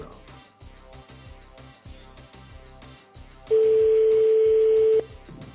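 An outgoing phone call: after a stretch of background music, a single steady ringback tone sounds for about a second and a half, loud and close.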